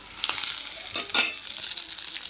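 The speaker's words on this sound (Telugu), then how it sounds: "ఇలా కొంచెం వేగాక ఒక చిన్న టమాటా వేసేద్దాం" Onions frying in a pan for a mutton gravy curry, with a small tomato added, giving a steady close sizzle and crackle with brief bursts of spitting as the pieces hit the hot oil.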